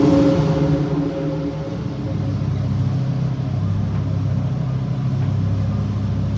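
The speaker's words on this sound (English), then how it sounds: "My car's gonna be noisy though." A noisy car engine idles nearby in a steady low rumble that holds constant throughout, loud and close with no talk over it.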